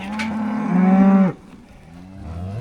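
A bull in a cattle pasture lets out a loud, close bellowing moo lasting over a second, followed by a quieter, lower second call as it trails off.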